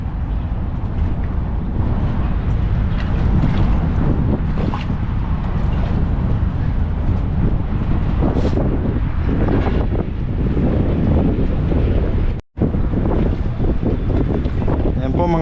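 A small boat pushes through sea waves in strong wind, a constant rumbling rush of water and wind buffeting the microphone, with people talking faintly underneath.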